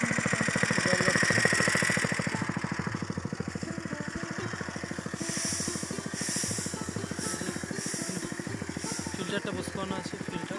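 A small engine-driven water pump runs a drip irrigation system in a garden, chugging steadily and evenly with a faint hiss, while someone talks over it.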